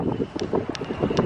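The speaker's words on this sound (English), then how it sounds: "Very, very windy." Strong wind in an open spot in Shanghai among tall buildings, buffeting the microphone in loud, rumbling gusts throughout.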